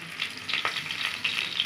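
Sliced onions fry in a pan with turmeric, giving a loud, steady sizzling hiss with light stirring clatter, close up and without speech.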